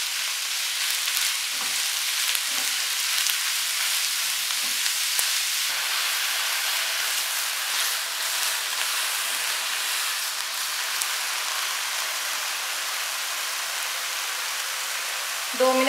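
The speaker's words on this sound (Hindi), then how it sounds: "कीमे को 2 मिनट के लिए फ्राई करेंगे।" Minced meat frying with softened onions in a pan, a steady close hiss and crackle of sizzling that holds even throughout, with a few faint clinks and no speech.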